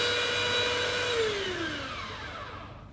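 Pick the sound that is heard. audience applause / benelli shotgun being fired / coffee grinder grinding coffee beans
coffee grinder grinding coffee beans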